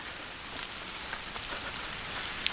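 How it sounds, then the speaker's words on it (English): Steady rain falls on a wooded hiking trail on a hill, a soft continuous hiss with scattered drops pattering close by, picking up slightly, with no voices. "It sounds like the rain's picking up just a little bit."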